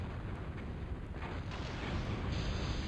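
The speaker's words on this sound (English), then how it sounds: "That is an impressive number of armed T3 like artillery K-bots." Artillery robots open fire in a strategy video game battle, a dense, continuous roar of booming shots and rumble that builds slightly toward the end, with no voices.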